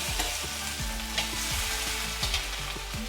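Whole garam masala and chopped ginger sizzle in hot oil, a steady close crackling hiss with sharper pops now and then and a low tonal melody underneath.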